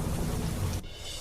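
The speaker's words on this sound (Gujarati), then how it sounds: "ખેડા જિલ્લામાં ધોધમાર વરસાદ" Heavy rain pours down in Kheda district, a dense, steady roar that drops abruptly to a lighter, thinner hiss partway through.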